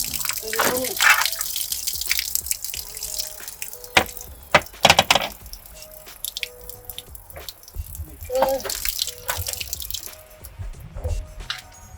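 Water from a broken outdoor garden tap splashes and drips in irregular bursts, with a few sharp spurts and hand movements up close, while a person speaks briefly over it.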